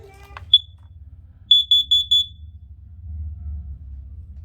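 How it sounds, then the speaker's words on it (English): A home combined smoke and carbon monoxide alarm on a first floor, sounding its test: a single sharp high-pitched beep, a short pause, then four rapid loud beeps in a row over a low background hum. "Our last smoke and carbon monoxide alarm is right here on the first floor. So we can hit the test button."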